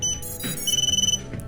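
An FPV micro drone powering up gives rapid electronic beeping, a steady tone followed by a quick string of short pulsed beeps, close and fairly loud over a low hum.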